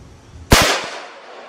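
.243 Win rifle fired from a short-barrel Savage with Remington Premier AccuTip-V ammunition, a single loud sharp crack with a brief echoing tail, heard from about six yards back.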